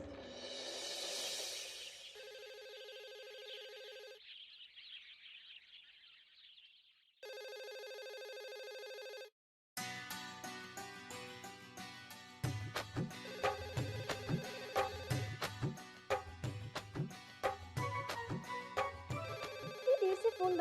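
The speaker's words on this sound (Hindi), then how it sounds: "इतनी देर से फोन बज रहा है," A phone rings at length in a family home, starting with synthetic ringtone beeps and tones split by short pauses, then a busy, loud electronic melody that repeats with no talk over it.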